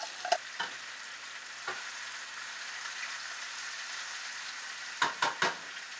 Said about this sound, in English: you're just going to let that saute for about 5-10 minutes or so